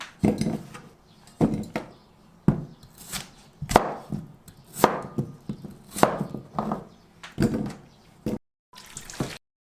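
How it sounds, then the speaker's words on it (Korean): Potatoes are chopped into small pieces on a cutting board: a close series of sharp knife thuds in uneven bursts, with brief pauses and some watery kitchen sounds between them. "감자를 좀잘 익게 잘게 잘라서 삶을게요"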